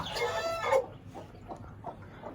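Farmyard chickens kept alongside goats, with a louder squawking cackle at the start followed by several softer, spaced clucks, moderately close with no talk.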